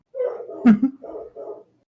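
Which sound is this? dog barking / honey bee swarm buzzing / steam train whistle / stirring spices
dog barking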